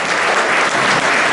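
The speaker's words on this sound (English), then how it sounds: "round of applause, round of applause" Audience applause fills a football banquet hall, a dense, steady wash of clapping from a large crowd held at full strength for the whole short stretch.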